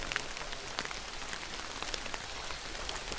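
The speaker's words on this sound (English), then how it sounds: "It's starting to rain a lot worse now." Heavy rain falls during a woodland hike, a dense, steady patter close by with scattered sharper drops standing out against the wash.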